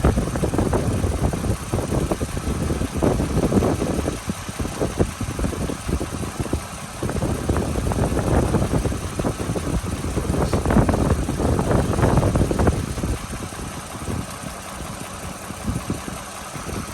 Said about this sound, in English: I'm going to hover right here so you can listen to the engine.